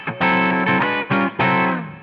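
Electric guitar through a DiMarzio Tone Zone high-output bridge pickup into a compressor, a few loud, sustained, slightly distorted chords strummed in quick succession, the last one ringing out and fading, with no talk.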